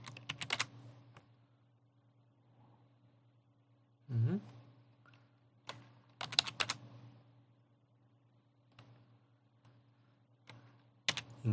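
Password typed on a computer keyboard while installing Samba on Ubuntu 20.04: short bursts of clicky keystrokes, loud and close, separated by pauses with a low steady hum behind them.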